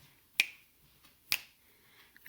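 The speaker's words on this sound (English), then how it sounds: "So that rhythm section could be some snaps." Three sharp finger snaps, isolated and evenly spaced about a second apart, crisp and close with nothing else sounding between them.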